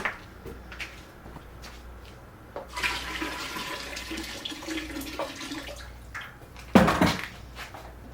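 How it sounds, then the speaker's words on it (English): Water poured into a 20-gallon 240V electric beer brewing kettle during a pale ale brew, a broad splashing rush starting partway through and continuing for several seconds, with a louder burst near the end amid faint handling clatter. "I just gotta add half gallon of water"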